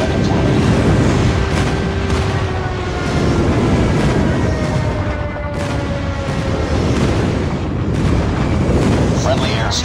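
Airstrike explosions in the mobile shooter game Call of Duty Mobile, heard as a loud, continuous rumbling roar of blasts with deep booming layers that swell and fade, and a brief game voice line.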